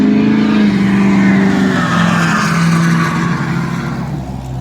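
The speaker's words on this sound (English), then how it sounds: "Yes, that's the same truck that went by earlier. I like diesel trucks, they're a little loud." A loud diesel truck passes close by, its engine roaring with a strong low drone that shifts in pitch and then slowly fades as it moves away.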